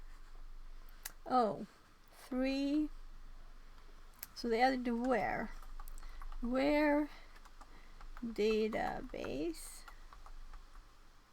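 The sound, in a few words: typing on a computer keyboard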